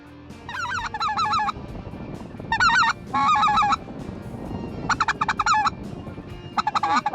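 Geese honk in loud repeated bursts, several birds calling together in clusters with short pauses between, close by over a low rumbling background.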